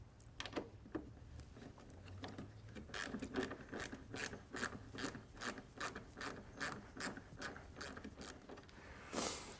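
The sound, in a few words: ratchet with Torx bit removing Ford Transit headlight screws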